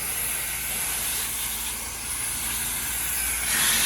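A pressure washer rinsing the outside of a house sprays with a steady, broad hiss and rush of water that holds even and loud throughout, swelling slightly at the end.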